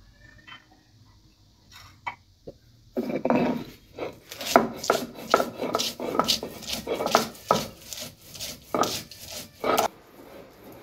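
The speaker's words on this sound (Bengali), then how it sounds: "এবার আমি রসুনগুলো বেটে নেব।" Garlic cloves ground by hand on a flat grinding stone in a village kitchen, heard as a steady run of rhythmic rubbing and scraping strokes after a few scattered knocks, close and fairly loud.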